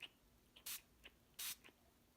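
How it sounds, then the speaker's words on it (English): Brush cleaner is sprayed onto makeup brushes in two short, close hissing bursts, each accompanied by faint clicks from the spray nozzle. "Okay, so I sprayed it 4 good times"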